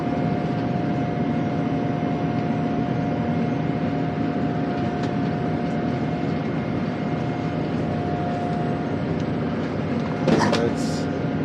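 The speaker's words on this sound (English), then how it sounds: "And we're doing takeoff now." Heard from inside a passenger airliner cabin during takeoff from Tokyo, the jet engines make a steady, loud, low drone that holds throughout, with a short rattling clatter near the end.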